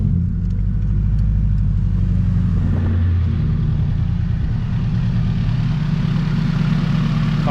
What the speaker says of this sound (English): Car's purring.